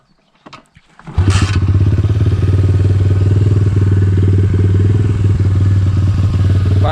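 A pit bike engine starts after a couple of thumps and settles into a steady, loud idle, running continuously nearby to warm up before an oil change.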